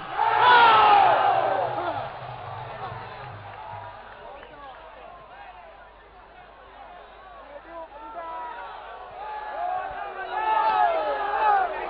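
A large crowd roars and cheers at a Partai Aceh governor candidate declaration rally, loud at first, easing to a busy murmur in the middle, then swelling again toward the end.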